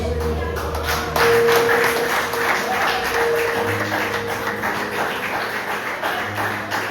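Many hands clap in a rhythmic, continuous stream at a church service, fairly loud, with a low musical hum underneath.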